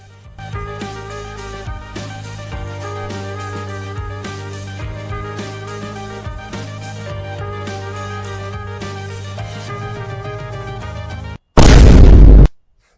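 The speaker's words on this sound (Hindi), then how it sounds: "गोली चला दी इसने यार" Steady background music plays, then a single loud, booming gunshot cuts in near the end.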